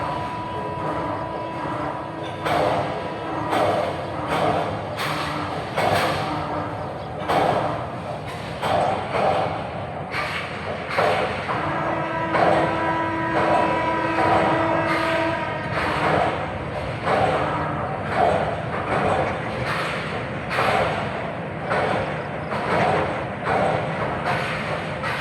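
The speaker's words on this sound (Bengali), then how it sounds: "ট্রেন ডবল স্পিডে বেগে চলে আসতেছে ট্রেনটা।" A train leaving Dhaka passes at high speed, a long rumbling roar with repeated sharp rattling clacks and a sustained tonal whine that swells mid-pass, fairly close and continuous.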